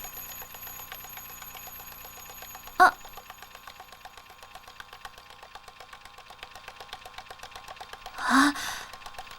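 An alarm clock bell inside a glass jar as air is pumped out, heard as two brief rings several seconds apart over a steady low motor hum, the later ring slightly fuller.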